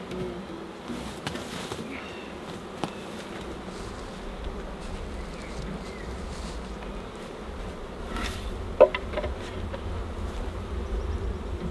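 Honeybees buzz around an opened Langstroth hive during a brood inspection, a soft, continuous drone of many insects close by, with occasional light knocks and handling sounds.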